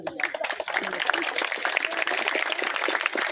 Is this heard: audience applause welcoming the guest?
yes